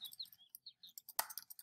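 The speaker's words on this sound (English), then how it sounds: "Look at me, chirping like crazy." A bird in the Roblox game Bird Simulator chirps in a quick burst of short, high tweets, quiet and close with brief gaps, and no talking.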